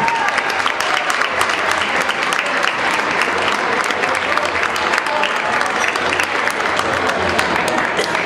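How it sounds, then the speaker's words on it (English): A large crowd applauds at a school's 100-year celebration in a grand banquet hall, sustained even clapping with no letup and a faint murmur of voices underneath. "a great big round of applause"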